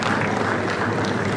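Audience clapping for a judge at a leadership conference, a steady, moderately loud wash of applause from a crowd.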